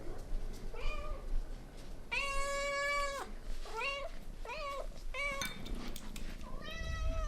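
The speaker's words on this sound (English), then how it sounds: "I feed my cats wet food." Several cats meow loudly and repeatedly at feeding time, with long rising and falling calls close by, some overlapping, over a faint indoor background.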